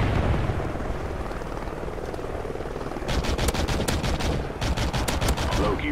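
Friendly helicopter in Call of Duty Ghosts, a steady rotor drone filling the scene, joined midway by rapid bursts of gunfire that rattle over it in repeated volleys.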